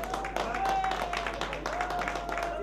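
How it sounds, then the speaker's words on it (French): Scattered clapping at an evening awards ceremony for the diaspora prizes, applauding a child honoree, moderately loud with a hum underneath and some voices mixed in. "On va applaudir très fort pour cet enfant."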